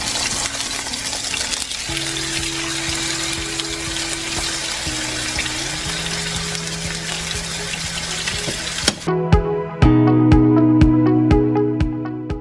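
Steak sizzles and crackles loudly in a hot pan, then the frying cuts off and a few clanks and tonal hums follow.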